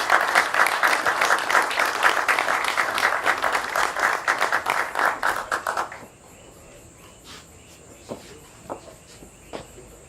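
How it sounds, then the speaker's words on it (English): A crowd applauds with dense, steady clapping for several seconds at an awards ceremony, then it cuts off abruptly, leaving quiet room noise with a few faint scattered sounds. "Please applaud Sergeant Dumont."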